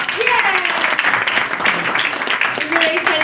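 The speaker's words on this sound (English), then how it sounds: "Give yourselves a round of applause." An audience applauds loudly and continuously, a dense wash of clapping that fills the whole stretch, with a voice briefly heard over it.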